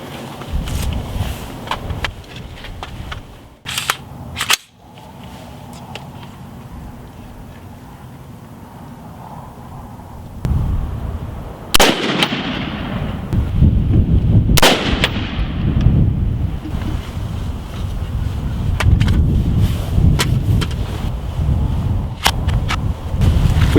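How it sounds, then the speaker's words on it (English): An AR-15 rifle is fired on an outdoor range while its sights are checked, several sharp, loud reports spaced seconds apart, with wind and rumbling noise between the shots. "So, we're going to take a few shots, verify the sights, and make any changes as necessary."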